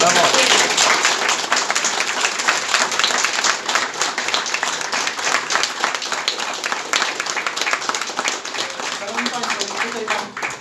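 An audience at a Konfederacja talk by the editor of the weekly Najwyższy Czas bursts into loud, dense applause that holds for about ten seconds before easing slightly at the end, with voices faintly underneath.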